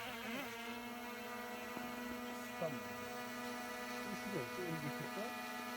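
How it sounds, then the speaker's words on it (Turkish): A steady high-pitched drone hum with whining harmonics holds throughout as the drone lifts off outdoors in hill country, pitch sliding up and down in places as voices talk faintly underneath. "Arkadaşlar Mert drone'u kaldırdı."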